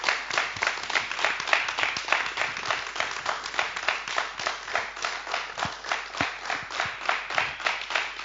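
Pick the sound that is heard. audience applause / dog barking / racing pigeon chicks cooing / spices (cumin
audience applause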